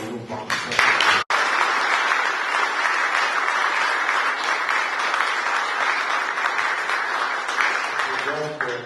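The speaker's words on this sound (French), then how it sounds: "Je voudrais donc que vos applaudissements traduisent ce que nous pensons." An audience bursts into loud, continuous applause at a university ceremony honouring a professor, filling the room evenly for several seconds after a brief sharp cut near the start, then thinning slightly at the close.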